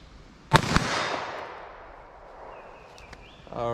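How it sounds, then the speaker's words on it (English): A single loud 9mm pistol shot fired outdoors toward a 40-yard target, a sharp crack followed by a long fading echo that dies away over a few seconds. "Let's see how our 9mm shoots."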